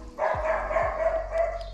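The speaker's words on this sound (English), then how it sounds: "those dogs are really barking out here." Two or three sharp dog barks ring out over a steady low hum outdoors in Italy, followed by a continuing whine or yelp tone, fairly close.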